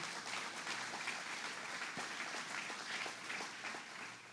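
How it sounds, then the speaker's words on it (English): An audience at a community event applauds a guest, a sustained, even spread of clapping at a distance, faint overall with no talking over it. "Let's give him a round of applause, Howard Zemsky."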